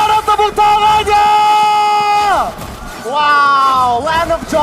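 An esports arena crowd at a Mobile Legends playoff match cheers and yells loudly, with sustained voiced whoops and shouts rising and falling in two big swells over a background of crowd babble.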